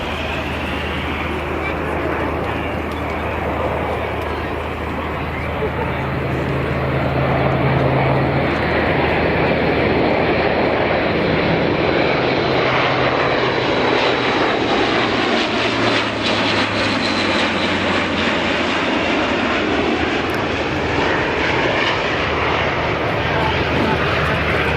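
An Airbus A400M Atlas C1 military transport plane passes low at the RAF Cosford Airshow, a loud, sustained engine roar that swells and shifts pitch as it flies by, with a voice commentating over it.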